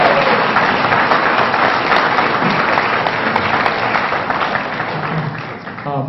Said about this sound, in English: you can applaud for our new editor